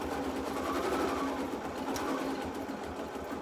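An embroidery machine stitching out a design, a steady fast mechanical whirring and needle chatter, continuous and close, with no one speaking.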